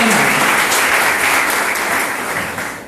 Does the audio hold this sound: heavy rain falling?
no